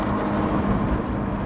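A Subaru flat-six car cruising in sixth gear with a steady low engine drone and road rumble from inside the cabin, constant and moderately loud with no talk.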